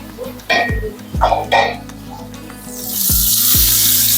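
Onions cooking in a pan on low heat give a soft, steady sizzle that builds toward the end, with a few clinks and scrapes of a utensil against the pan early on.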